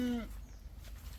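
A goat at a rural family home gives one short, loud, close bleat, followed by quiet room noise.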